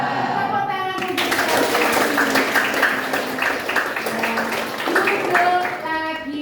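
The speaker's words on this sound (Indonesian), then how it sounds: "Tepuk tangan untuk" Classroom students clapping hands together in a burst of applause, mixed with voices and chatter from the group.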